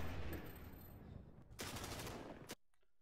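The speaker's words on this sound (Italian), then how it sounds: "io dal lato destro ho sentito uno sparo e dal lato sinistro ho sentito i proiettili, i bozzoli" Gunfire from a video game comes in loud, dense bursts of shots that overlap into a sustained roar. A sharp final crack is followed by quieter rattling detail.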